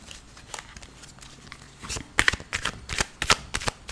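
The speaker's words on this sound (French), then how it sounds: "je pose mon jeu et je fais 3 tas" Playing cards slapped down one after another into three piles on a table, a series of sharp, close papery snaps and flicks that grow louder and more frequent partway through.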